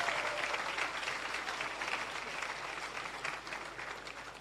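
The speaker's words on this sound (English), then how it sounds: "Can we have a collective round of applause for all the recipients?" An audience claps steadily for award recipients at a Jamaica civil service long service awards ceremony, a dense, even round of applause heard from a moderate distance and lasting the whole stretch.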